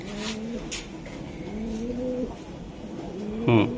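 Club racing pigeons kept in a small cage give several low, rolling coos up close, spaced a second or so apart, ending with a brief louder, fluttering call.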